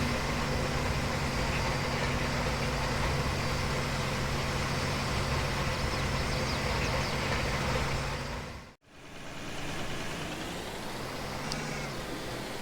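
A T-150 tractor engine in Farming Simulator 22 drones steadily at a constant hum, briefly cutting out near the end before resuming more quietly.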